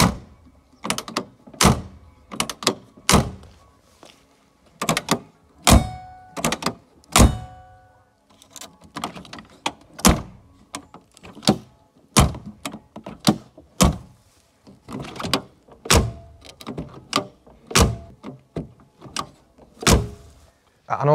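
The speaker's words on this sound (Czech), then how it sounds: "takhle v žádném případě nemají chodit dveře a zámky na autě" A series of car doors slamming and locks clunking on a worn 1981 Škoda 120L, repeated thuds at irregular intervals, close by, with brief mechanical rattles between them.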